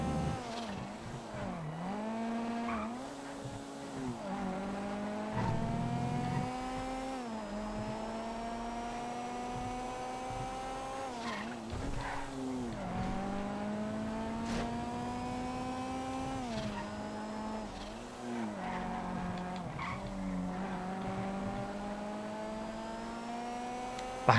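Game race cars in GTA FiveM, including a Hammerhead, run a lap with continuous engine drone that rises and falls through gear shifts and revs, loud and steady across the whole stretch with no talk.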